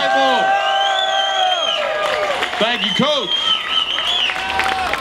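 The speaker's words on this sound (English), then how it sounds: "Round of applause" A crowd applauds and cheers for a UCF football coach at a UCF Knights tour event in downtown Orlando, a dense wash of clapping and whoops running under a speaking voice and amplified music.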